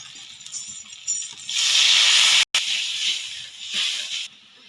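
About a bowl of water poured into hot oil and fried spice paste for a rohu fish curry, giving a loud, sustained hiss that swells, cuts out briefly, then resumes before fading.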